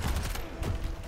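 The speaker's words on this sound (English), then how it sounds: "Machine gun, shotgun" In a Quake Champions team deathmatch, a machine gun and shotgun fire in a dense, loud burst of rapid shots that lasts about a second.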